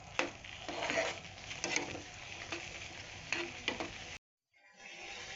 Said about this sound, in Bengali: এবার একটু ভালো করে নেড়ে নেব।